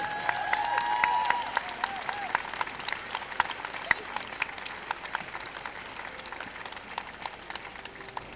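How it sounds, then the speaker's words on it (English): A crowd applauds the six finalists at the 2013 Junior Handling Association final, a dog show handling event, with dense, sustained clapping throughout that is strongest early and then eases to a steady patter. "So show your applause for our 6 finalists,"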